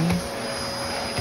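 An old vacuum cleaner runs with a steady, close motor drone and high whine, continuous through the brief moment.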